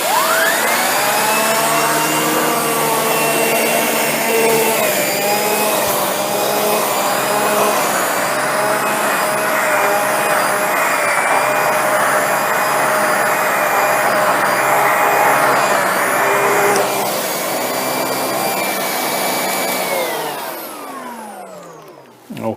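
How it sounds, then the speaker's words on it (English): Shark Rotator Lift Away Speed NV682 vacuum with its pet power brush running over carpet ground with white pet hair: a loud, steady motor whine with a harmonic hum holds for about twenty seconds, then spins down at the end. "Now we're going to see how the pet power brush performs."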